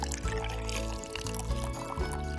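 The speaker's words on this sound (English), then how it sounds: "we're going to add some stout" Stout is poured into a pot of slow-braised beef stew, making a steady close glugging pour with rhythmic gurgles for a couple of seconds, with no one talking.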